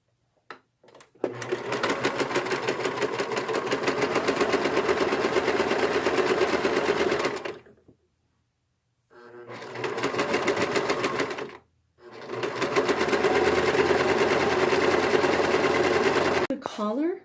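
A sewing machine hems a t-shirt and leggings, loud close whirring in three bursts separated by short pauses, each starting and stopping abruptly.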